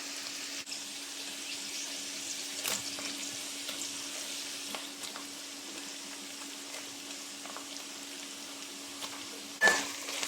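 Tofu sautéing with garlic and onion in a pan, with a faint, steady sizzle and a few soft clinks of a utensil against the pan.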